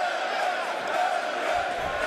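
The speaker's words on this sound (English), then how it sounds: "The crowd beginning to rally behind one of their own" A boxing arena crowd roars and rallies behind its home fighter during the David Lemieux vs Fernando Guerrero bout, a dense, sustained wash of cheering at steady loudness.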